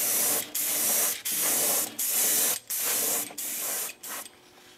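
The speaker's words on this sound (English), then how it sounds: "I'm gonna go ahead and give them a good coat of polyacrylic" Polyacrylic coat is sprayed onto eel swimbait lure parts in about seven loud, close hissing bursts separated by brief gaps, the final sprays growing weaker.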